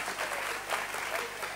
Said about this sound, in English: We don't clap hands for the pastor, but clapping hands for the Lord